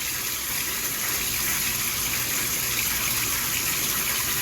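Tap water runs in a steady, even gush during handwashing, loud and continuous with no talk over it.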